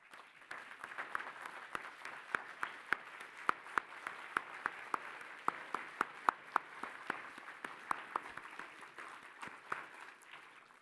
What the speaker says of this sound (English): Would you all please stand and give yourself a round of applause?